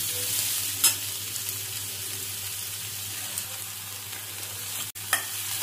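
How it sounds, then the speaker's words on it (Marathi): Sliced onion fries in a pan for paneer bhurji, giving a steady close sizzle with a faint background hum and a couple of brief clicks from stirring, no talking. "कांदा पिंक होईपर्यंत भाजून घ्यायचा, ब्राऊन नाही करायचा आहे।"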